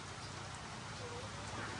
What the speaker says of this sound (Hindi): अभी जो है ना बारिश गिरना स्टार्ट हो गई है